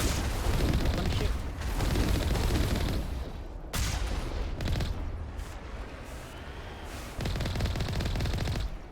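Gunfire in the Mass Effect video game (Legendary Edition), dense rapid bursts of automatic shots with booming impacts, loud and nearly continuous, broken by short pauses between volleys.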